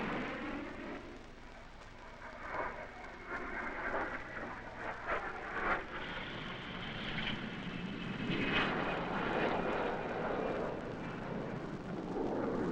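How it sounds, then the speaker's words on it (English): A four-engine B-58 supersonic military bomber roars past as a continuous broad jet rumble that swells gradually and holds strong, with no talk over it. "The Navy and the Air Force must operate many types of supersonic aircraft, both interceptors and bombers, such as the 4-engine B-58s."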